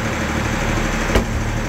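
A tractor engine runs steadily at a sawmill where a large pecan log is being slabbed. It gives a close, continuous low hum with a single short knock partway through, and no one speaks.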